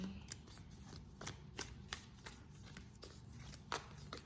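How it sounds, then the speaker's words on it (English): Playing cards riffle and flutter in quick repeated bursts, close and soft, with no one speaking. "I'm gonna shuffle one more time."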